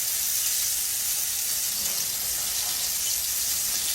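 Cubed steak frying in a pan on medium-high heat, giving a steady, even sizzle and hiss that holds throughout with no talking.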